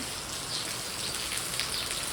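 Steady rain pours down in a village, a dense, even hiss of drops hitting surfaces, close and constant with no voices.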